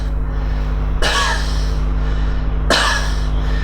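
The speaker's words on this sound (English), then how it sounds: "the chest is so sore that he has to hold the chest while coughing" Two short, harsh coughs from a person with a chronic cough and sore chest land about two seconds apart over a steady low background hum.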